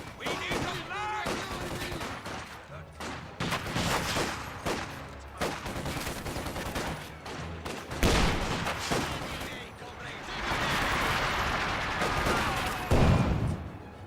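Rapid bursts of video game gunfire crackle through a tournament-match battle, dense volleys and single shots layered over energetic commentary, with a heavy thump near the end.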